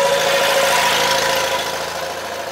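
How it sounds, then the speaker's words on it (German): A military vehicle's engine runs at the Militracks show in Overloon, a steady, loud, close droning idle with a low throb and no voices. "da kommt wieder ein Motor, das müssen wir mitnehmen"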